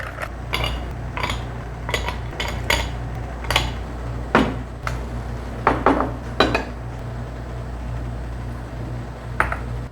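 Ice cubes clink and rattle against an old fashioned glass as it is chilled, sharp bright knocks, irregular and close, over a low steady hum.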